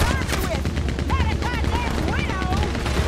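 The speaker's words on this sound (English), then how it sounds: "Oh, that's a Gatlin! That's a Gatlin gun!" A Gatling gun opens up in a Red Dead Redemption 2 shootout, a loud rapid stream of shots running through the whole stretch while someone shouts excitedly over the gunfire.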